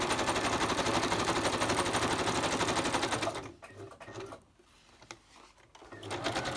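Sewing machine running a fast, continuous rapid-fire stitch around a paper napkin collage page, then stopping abruptly, followed by a few quiet clicks and handling sounds.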